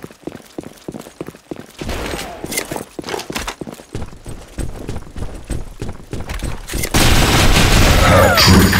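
Gunfire in the online shooter Blackshot, a rapid series of sharp shots and bursts that starts sparse and builds into dense, loud continuous fire near the end.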